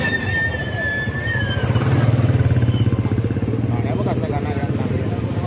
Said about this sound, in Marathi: एवढं ट्रॅफिक झालं इथं।